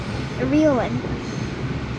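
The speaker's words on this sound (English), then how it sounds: "A real sound of a train" A train passes in Singapore, a low rumbling rail noise with faint wheel sounds under a brief spoken voice.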